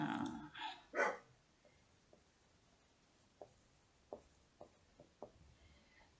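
An excited dog barks in a few loud bursts at the start, followed by a string of fainter, sharper knocks or yips spread out over the next several seconds.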